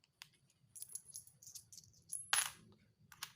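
Two coins tossed and landing on a hard surface, giving scattered light clinks and one sharper ringing strike, faint and close, with quiet pauses between impacts.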